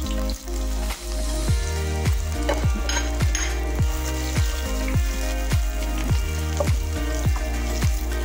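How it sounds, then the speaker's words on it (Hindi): Onions sizzling and crackling in hot oil for chicken masala, a steady close frying hiss with occasional stirring, set against a looping musical backing. "तेल गर्म हो चुका है, मैं इसमें प्याज डाल रही हूँ।"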